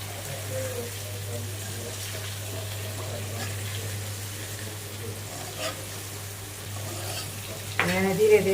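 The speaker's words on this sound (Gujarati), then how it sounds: "આને ધીરે ધીરે આમ હલાવી લઈએ ઉપર નીચે" Whole onions cook in a curry in a pan and are slowly stirred, with a low continuous sizzle under a steady hum and a louder scrape of stirring at the end.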